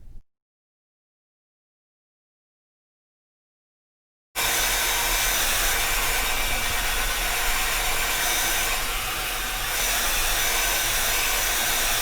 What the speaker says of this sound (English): I'm going to blow dry a lot with my hair parted on this side